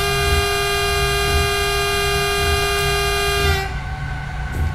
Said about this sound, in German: So, da haben wir einmal schön gehupt, dass wir auch mal unsere Hupe hören.